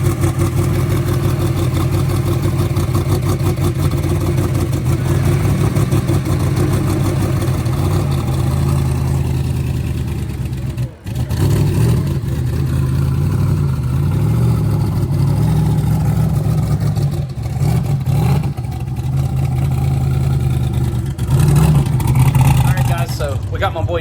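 A twin-turbo Zephyr drag car's engine runs steadily at idle on a test run, with a loud, deep, lumpy rumble throughout and a brief dip partway through.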